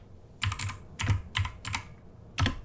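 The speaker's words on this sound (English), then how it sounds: "then type it up" Fingers tap on a computer keyboard in a few short bursts of soft, close clicks separated by brief pauses.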